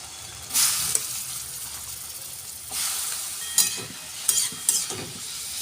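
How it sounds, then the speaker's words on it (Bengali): Mushrooms fry in hot oil in a wok, a steady close sizzle broken by several sharp bursts of crackling and stirring. "কড়াই তেল দিয়ে দিয়েছি, তেলটা গরম হয়ে গেছে। আমি মাশরুমগুলো তেলের মধ্যে পর ভেজে নেব।"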